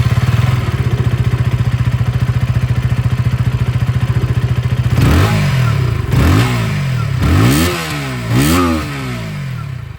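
A 164.2cc single-cylinder liquid-cooled motorcycle with an underbelly exhaust idles with a steady low thrum, then is blipped through four or five sharp revs that rise and fall, loud and close.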